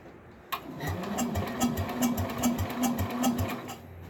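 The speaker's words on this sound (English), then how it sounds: "that starter generator turns over faster" A tractor engine being cranked over by its starter generator, a rapid steady chugging rhythm with a whirring mechanical drone, close and fairly loud for about three and a half seconds without catching.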